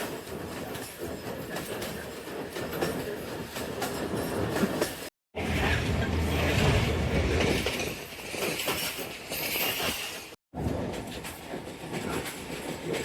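The Sialkot Express runs on its rails in a steady, loud, close rumble with rhythmic clickety-clack, heard from aboard the train, with two abrupt brief cuts in the sound.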